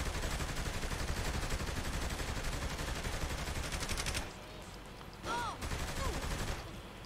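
Dense, continuous gunfire rattles through a Saints Row III firefight, overlapping shots from several weapons forming a loud wall of noise that briefly drops away before resuming, with voices talking faintly beneath it.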